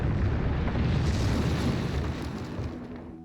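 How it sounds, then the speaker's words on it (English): A loud, dense rumble of explosions and booming gunfire from a battle in the video game Terminator: Dark Fate, sustained and heavy before easing off slightly at the end. "Sounds like some kind of battle going on over this way."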